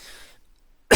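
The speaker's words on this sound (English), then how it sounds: "Sorry to clear my throat here, I'm dying." A single short, rough throat-clearing burst close to the mic near the end, following faint fading noise and silence.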